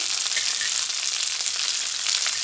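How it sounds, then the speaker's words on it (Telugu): Curry leaves, coriander, mint and a little cinnamon deep frying in hot oil for sorakaya sambar, a steady dense sizzle and crackle that holds at the same loud level throughout, with no voices. "కొంచెం డీప్ ఫ్రై చేయండి"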